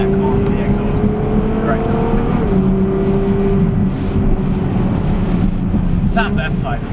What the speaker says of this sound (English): It's a phenomenal sound. So well done, Innertech on the exhaust.